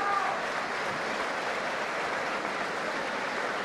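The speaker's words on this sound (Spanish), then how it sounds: "Lo vuelven a aplaudir a Paredes." Steady crowd applause for boxer Hardy Paredes at a boxing event in Pergamino, a dense, even wash of clapping that holds at one level without a break.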